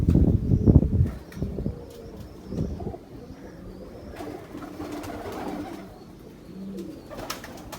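Pigeons coo with low, rounded calls, and a loud burst of wing flapping comes near the start before the birds settle into quieter cooing and rustling.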